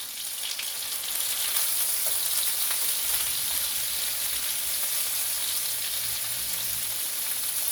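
Veal cutlets sizzling in a frying pan, a dense steady crackle and spit of hot oil that stays loud and even, with faint clatter as the cutlets are turned over.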